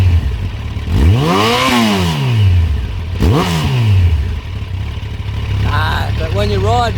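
A 2009 Yamaha FZ1n naked motorcycle is revved twice in sharp rising and falling sweeps, close and loud, then settles back to idle with a few quicker blips of the throttle at the end.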